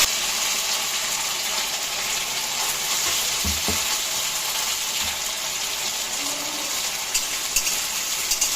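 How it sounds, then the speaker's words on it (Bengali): Battered soybean chunks fry in hot oil in a wok, giving a steady, dense sizzle and crackle throughout with a few soft clinks of a utensil. "এখন আমি আস্তে আস্তে কড়াইয়ের তেল, আমার তেলটা গরম হয়ে গেছে, এখন আমি এইভাবে ছেঁকে ছেঁকে নিয়ে তেলে দিয়ে দিচ্ছি"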